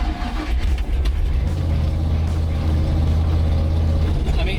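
A Ford F-150 fitted with a 533 HP 460 big block engine drives off-road, its deep engine rumble loud and steady throughout with heavy low-end drone, no speech over it.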